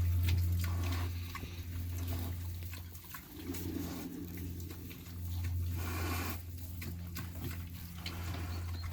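Soft grunting and snuffling from Vietnamese piglets over a steady low hum, with faint pattering in the background; no one speaks.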